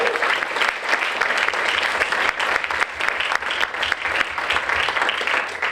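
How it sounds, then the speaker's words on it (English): Steady, dense applause from a conference audience honoring a panel at the State of Extraction conference, sustained and fairly loud throughout with no break. "Can we have another round of applause for just a phenomenal panel?"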